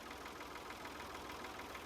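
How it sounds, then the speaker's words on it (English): A tractor engine idling in Farming Simulator 19, a steady low rumble with a faint knocking pulse, heard alone and fairly quietly throughout. "Let's jump in our tractor."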